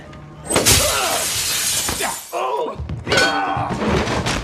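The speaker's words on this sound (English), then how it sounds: "if Gielgud punched through the mirror, surely his hand would phase through the glass as opposed to shattering it" A mirror's glass shatters loudly from a punch in a film scene, a sharp crash followed by sustained clattering and debris that keeps ringing through the rest of the moment.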